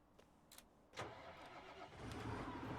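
A tractor engine in the Farming Simulator 2019 video game cranks over and catches, settling into a steady, rising idle rumble after a few faint clicks, with no talking.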